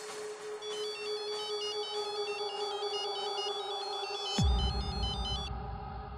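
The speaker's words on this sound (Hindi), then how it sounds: "फोन करके बुलाओ।" A telephone rings with a repeating electronic ringtone, steady and clear, then cuts off partway through as a low rumble comes in. No voices are heard.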